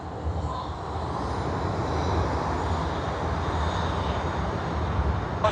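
A DHL cargo jet taxiing and turning at Sydney Airport gives a steady, broad engine roar and rumble at moderate distance, unchanging throughout with no talk.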